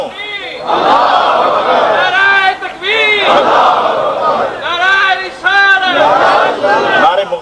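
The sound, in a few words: crowd chanting religious slogans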